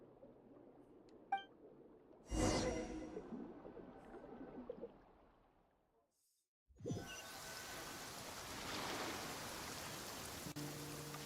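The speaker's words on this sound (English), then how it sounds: "No, it's raining." Rain in Genshin Impact hisses steadily in a soft wash of noise after a brief lull, with a few earlier clinks and a sudden burst.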